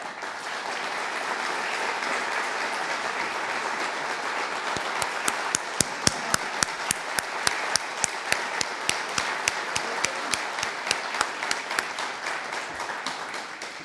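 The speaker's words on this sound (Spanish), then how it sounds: "por favor, le pido un aplauso para Rafael." Audience applause at a book launch in Colombia, a steady wash of many hands clapping, with a few sharp close individual claps standing out in a quick regular rhythm through the middle.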